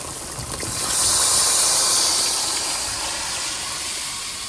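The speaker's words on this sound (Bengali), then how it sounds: "আস্তে আস্তে করো মশলা দিয়ে তেল ছেড়ে দিতে এবার জল দিয়ে দেবো" Water poured into hot oil and spices in a village-style kitchen pan sets off a loud, broad sizzling hiss that swells after a second and holds steadily to the end, with no voices.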